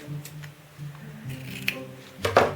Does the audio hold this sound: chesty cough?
no